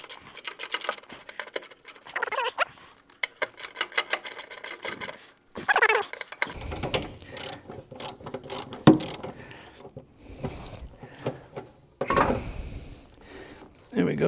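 A ratchet wrench loosens a 7/16 inch bolt in a car's engine bay with quick bursts of close metallic clicking, broken by pauses and someone talking over the work.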